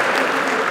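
Dense applause from an audience at a live comic performance, steady and full throughout a very short burst.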